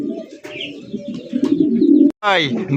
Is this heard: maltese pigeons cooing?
yes